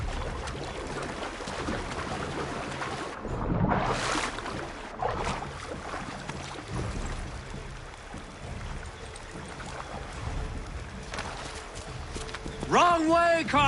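Horse hooves gallop at a steady, dense pace in Assassin's Creed 3, running continuously through the whole stretch over a busy game mix of ambience and music, with talk heard over it.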